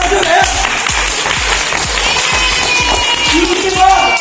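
A village crowd claps steadily at a Ganesh Chaturthi 2021 prize-giving ceremony in Limbi Chincholi, with dense, continuous applause under a loud announcer's voice and a rhythmic thumping beat.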